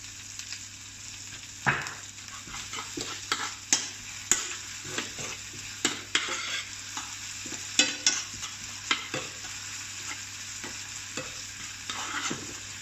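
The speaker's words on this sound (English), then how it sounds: "Now things are sizzling nicely, the onions are starting to get soft." Continuous sizzle of onions frying in a pan, punctuated by a series of irregular stirring scrapes and clacks.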